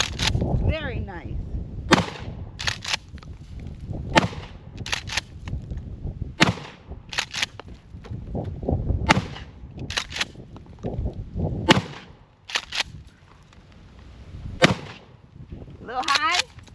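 Remington 870 Tactical pump shotgun firing several sharp, loud shots at irregular intervals outdoors. Each blast cracks and then echoes, and brief speech is heard between the shots.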